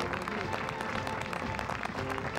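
Steady applause from an audience, a dense patter of many hands clapping at moderate volume with faint voices mixed in.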